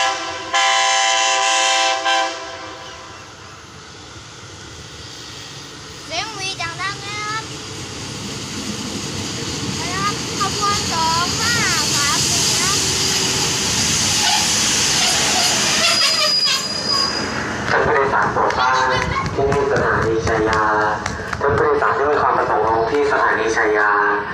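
A locomotive horn blares in long blasts as special express train 39 rushes past Chaiya station with rumbling wheels and squealing, metallic screeches, loud and close.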